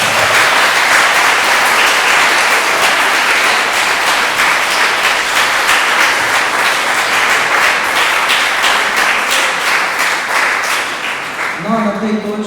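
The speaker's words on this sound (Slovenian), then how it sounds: "En aplavz za gospoda Same." An audience at a school drama festival applauds, with dense, steady clapping that fills the room for several seconds and stays loud and sustained before tapering slightly at the end, with a voice briefly coming in.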